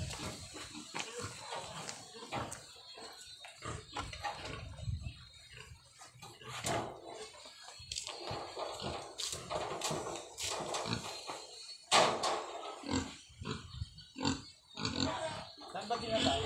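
A mother pig (sow) on a farm grunts in short, close bursts while people talk over her, with scattered knocks and shuffling around the pen.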